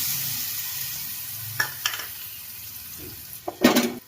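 Ginger and garlic dropped into hot oil for tempering Kathiyawadi urad dal, a steady soft sizzle with a few clinks of a spoon against the pan near the end.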